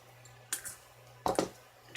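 Wire snipped off a spool for stained-glass work, a few sharp close snips set apart by short pauses in a quiet room.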